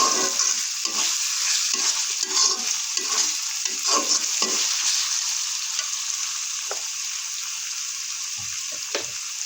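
Spice paste being stirred in a frying pan while cooking a potato dish with beef fat, with continuous sizzling and repeated scraping strokes of a spoon, close and fairly loud, no voices.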